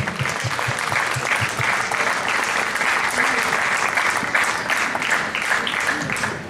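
Audience applause at an outdoor singing festival in Sammichele di Bari, a sustained, even crowd of clapping hands, loud and close throughout, with no voices over it.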